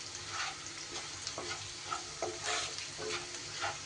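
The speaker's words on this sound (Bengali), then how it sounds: "ক্যাপসিকামটাও কয়েক সেকেন্ড একটু ভাজা ভাজা করে নেব।" Capsicum and already-cooked vegetables frying in a pan over a low flame, with a steady close sizzle broken by scraping stirs and small taps throughout, no voices.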